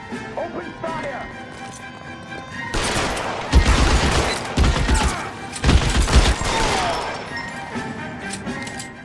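Gunfire erupts during a shootout in the crime game L.A. Noire, a burst of shots and volleys over several seconds amid engine and vehicle noise, with voices talking around the shooting.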